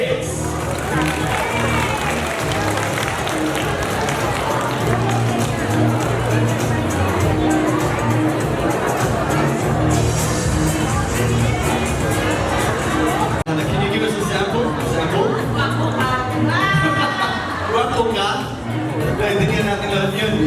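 At a corporate event celebration in the Philippines, a loud audience applauds and cheers continuously, with crowd chatter and a host's amplified voice mixed into the dense, steady noise.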